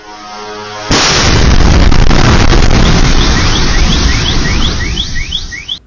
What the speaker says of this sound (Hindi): ये आपको ये बताएगी कितनी ज़ोरदार एक ये धमाका था।